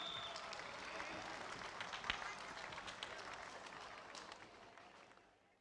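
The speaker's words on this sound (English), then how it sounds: "one final round of applause for Mini" A crowd applauds a Mini X30 at a motorsport event in Valencia, Spain: steady, dense clapping that holds through the clip and fades toward the end.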